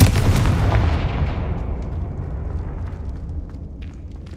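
The Confringo blasting spell detonates in Hogwarts Legacy, a loud, deep explosive boom that hits at once and then rolls away into a long fading rumble.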